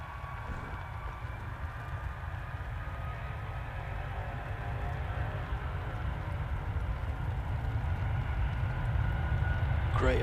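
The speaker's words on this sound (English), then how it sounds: "Great engine noise there." Low, steady jet engine roar at an airport, distant and building slightly in loudness throughout, with a steady high whine above it.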